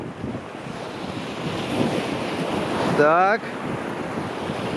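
Breaking water of river rapids in Karelia roars continuously and close, mixed with heavy wind buffeting the microphone, while someone speaks briefly.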